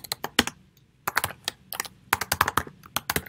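Rapid typing on a computer keyboard, close and clear, with quick bursts of clicking keystrokes separated by short pauses and no talking.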